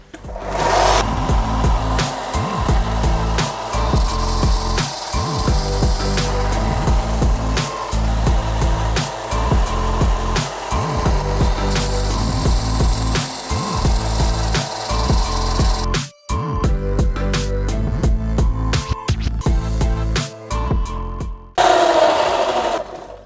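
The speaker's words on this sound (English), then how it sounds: "I'll show you how I do it" A loud, continuous grinding and rasping of a sanding belt against material while making ice tires for a sports bike, steady and close, with brief rhythmic pulses and a short pause near the end.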